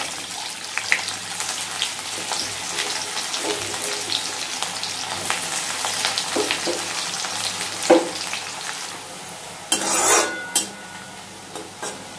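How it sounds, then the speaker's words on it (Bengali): Onions frying in hot oil in a pan while cooking a Bengali mutton curry, a steady, fairly close sizzle running the whole clip with occasional stirring scrapes and a louder burst near the end. "পেঁয়াজটা লাল করে ভাজা হয়ে গেছে"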